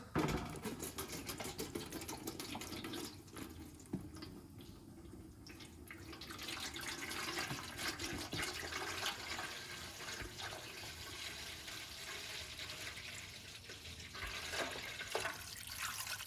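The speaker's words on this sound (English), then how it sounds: "So I got a couple gallons here I'm going to pour in here." Liquid glugs and splashes as it is poured from gallon jugs into a 1961 Cadillac, a continuous close rushing, gurgling pour with a few clunks of the jug, no talking.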